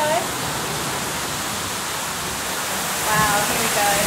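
Water pours over a giant water wheel weighing about ten tons at an oat mill, a steady broad rushing wash like a waterfall that swells slightly near the end.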